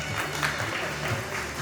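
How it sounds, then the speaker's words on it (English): Audience at a parish hall opening ceremony clapping steadily throughout, a dense, continuous round of applause close by, with a voice faintly underneath. "Louder claps."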